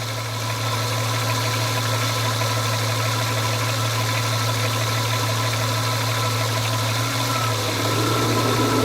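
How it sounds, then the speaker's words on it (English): 1996 Ford Mustang idling during A/C service: a steady low engine hum with a constant drone, then the radiator fan and A/C compressor kick in near the end, raising the whirring noise slightly. "So the fan's kicked in, and so has the AC compressor."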